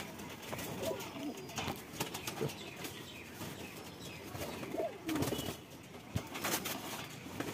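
Pigeons, including an imported-ring male and female pair, give a couple of low soft coos among rustling and wing flutters, close by, under someone talking.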